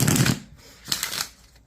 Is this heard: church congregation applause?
no